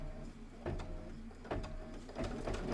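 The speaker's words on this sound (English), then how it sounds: "stitch out those stems. It's going to be 2 minutes of stitching" Embroidery machine stitching out mushroom stems on felt, a steady quiet mechanical whir with rhythmic clicks recurring about every second.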